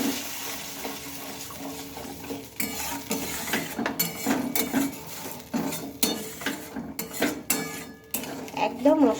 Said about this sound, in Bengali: এখন হচ্ছে মশলাটা ভালোভাবে মিশিয়ে নেব